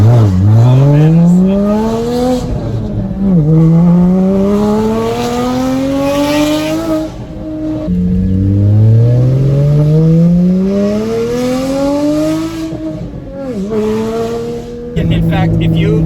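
A 2016 Porsche 981 Cayman GT4 engine pulls hard while driving, its loud, close drone climbing in pitch through long repeated sweeps, broken by brief dips at each gear change, with voices talking over it.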